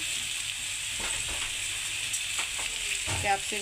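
Capsicum goes into a hot pan and fries with a close, steady sizzle, broken by a few clattering stir and spatula knocks over a few seconds, with no talk.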